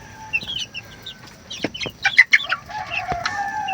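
Chickens squabbling nearby, with bursts of sharp clucks and squawks over a quiet background, loud and close, several calls overlapping in an agitated rhythm.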